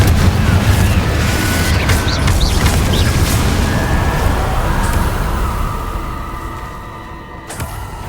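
A loud, sustained fiery blast from the Confringo spell in Hogwarts Legacy, cast against Inferi, with a dense rumbling roar that slowly fades near the end.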